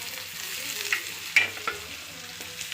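Vegetables with chopped onion are stirred in a hot pan, soft sizzling under a few sharp scrapes and clinks of the spoon against the pan, close and moderately loud.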